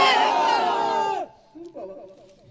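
A large crowd at an outdoor Islamic religious gathering roars the takbir chant in unison, a loud sustained collective shout that cuts off abruptly, followed by a quieter single voice.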